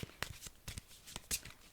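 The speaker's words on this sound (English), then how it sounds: "I'm going to shuffle the cards up" A deck of cards being shuffled up by hand, with soft irregular riffles and flicks, close but quiet, no talking.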